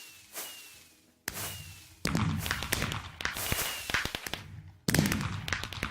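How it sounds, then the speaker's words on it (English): Fireworks bursting in the video game Minecraft, a run of sharp crackling explosions and pops coming in dense clusters, loud and close, with no talk over them. "I love this fireworks."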